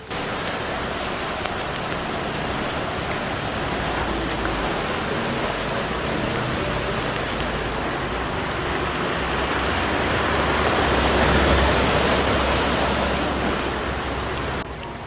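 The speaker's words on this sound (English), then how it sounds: "just started to rain, so we thought we'll head back before it gets too bad" Heavy tropical rain pours down steadily in Koh Samui, a loud dense hiss of drops on surfaces that swells slightly near the end, with no voices.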